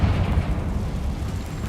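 A Confringo fire spell explodes in Hogwarts Legacy with a heavy, rumbling boom that stays broad and low for a couple of seconds before slowly fading.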